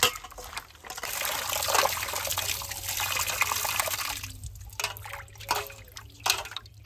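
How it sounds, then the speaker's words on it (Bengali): Running water splashes and trickles steadily while pieces of katla fish, rubbed with salt, are rinsed by hand several times; close and continuous with small splashy bursts. "এই লবণ দিয়ে মাখিয়ে নেওয়ার পরে আবার ভালো করে 3-4 বার ধুয়ে নেবো।"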